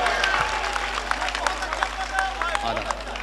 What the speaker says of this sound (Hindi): ताली बजाइए भरपूर खुर्शीद हैदर के नाम की।